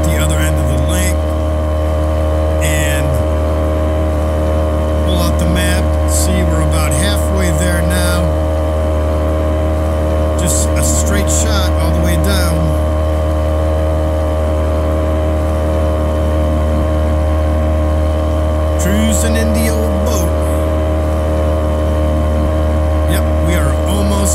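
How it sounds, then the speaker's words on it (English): Steady, loud drone of a motorboat engine in a fishing video game, running continuously, with a person talking over it now and then. "Man, that motor is loud."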